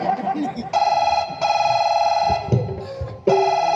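A telephone rings in loud, steady electronic tone bursts, three rings separated by short gaps, with faint background noise between them.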